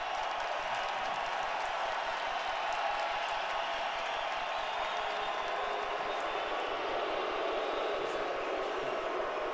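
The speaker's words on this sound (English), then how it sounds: "They're booing" Baseball crowd at Wrigley Field booing during a Mets at Cubs game, a broad, continuous roar of many distant voices filling the ballpark without a break.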